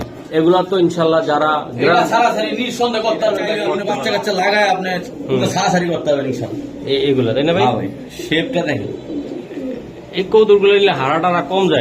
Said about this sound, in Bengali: আমিনুল ভাইয়ের যে হাই ফ্লাইং গ্রিভাস কবুতর বা পেন্সি কবুতর আছে